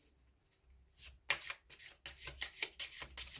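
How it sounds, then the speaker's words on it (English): A deck of oracle cards is shuffled close up, quiet rubbing at first, then a run of crisp, rapid riffling bursts in quick rhythm with no voices. "Let's have a shuffle."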